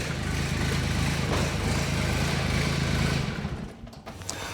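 A tractor engine runs steadily at idle, a loud low throbbing drone that holds even for about three seconds, then quiets and drops in level as it settles.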